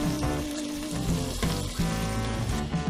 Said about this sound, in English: So next one is the mushroom. Saute din natin.